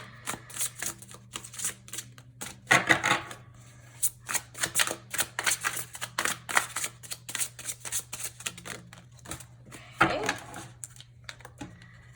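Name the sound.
shuffling large tarot cards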